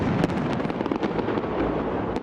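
Dense, continuous fireworks at a New Year celebration in Tokyo, a loud sustained barrage of overlapping bangs, pops and crackles with no pauses and no voices.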